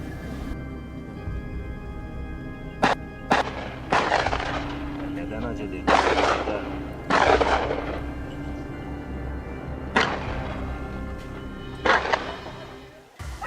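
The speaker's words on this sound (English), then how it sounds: "I raised my gun and pulled the trigger decisively" A hunting gun fired at a wild boar during a dog-driven mountain hunt: a series of sharp, loud bangs spaced a second or more apart, each ringing out briefly over a busy outdoor background.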